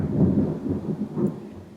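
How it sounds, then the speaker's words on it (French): Low, deep rumbling thunder from a thunderstorm rolls on steadily, distant and muffled, with no voices over it. "L'orage."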